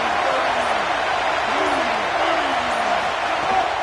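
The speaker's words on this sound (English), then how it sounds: "Decibels rising as the crowd gets behind this defense on third down." A football stadium crowd roars steadily on third down, a broad dense wash of noise that stays loud and full, with a voice talking over it.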